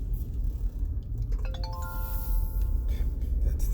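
A notification chime rings out as a quick rising run of bright tones that stack into a sustained ringing chord, set against a steady, busy background.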